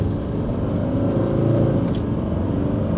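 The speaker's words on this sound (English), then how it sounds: "I'm just gonna do maybe a half throttle here" A Mercedes-Benz W126 300SD with the OM617 diesel engine, heard from the driver's seat, revs at half throttle with a steady, loud low-pitched drone and engine clatter that swells slightly mid-pull.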